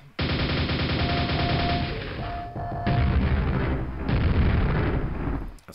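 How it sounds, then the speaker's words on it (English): Rapid nail gun fire in the vintage shooter Quake, a dense continuous burst of loud mechanical shots with booming impacts, pausing briefly twice before resuming, no voices. "Nail gun to the rescue."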